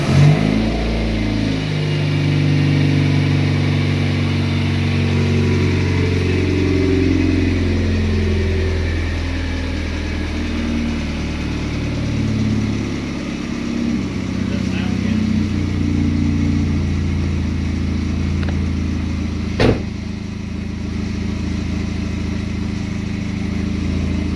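A 4-cylinder turbo Camaro fires up close by and then runs. A loud, rough start settles into an idle that rises and falls as the throttle is blipped, with people talking over the engine.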